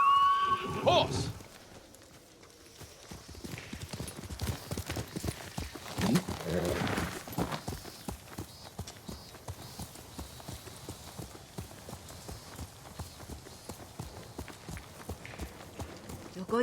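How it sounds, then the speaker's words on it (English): A horse in the video game Ghost of Tsushima gives a short whinny and then gallops in a quick, steady hoof rhythm over the ground, moderately loud, with speech briefly at the start. "Horse!"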